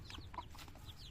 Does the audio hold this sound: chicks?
yes